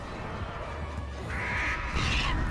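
A crow cawing in the video game Dead by Daylight, a couple of drawn-out harsh calls over a dense, rumbling game background.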